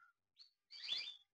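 A canary gives a few brief chirps nearby: a short high note, another quick tweet, then a longer warbling trill, set against silence.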